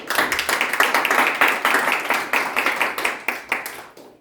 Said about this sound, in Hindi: आइए खुदा उनके जलाल के लिए जोरदार तालियां।